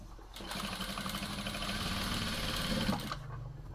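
A sewing machine runs steadily for about three seconds, stitching close along a sleeve edge with a fast even mechanical whir, close up, then stops.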